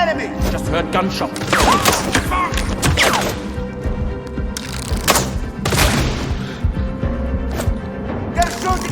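Gunfire fills a cinematic cutscene from the video game Sniper Ghost Warrior Contracts 2, with loud, dense rapid shots, booms and crashes layered over one another throughout.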